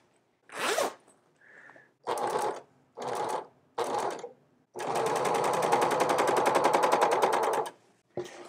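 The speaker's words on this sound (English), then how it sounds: "Final step here of the final step of the collar, top stitching it down." A sewing machine top-stitches the collar of a bomber jacket made from couch fabric. Several short stitching bursts separated by pauses lead into one long, steady run of fast mechanical chatter, heard up close.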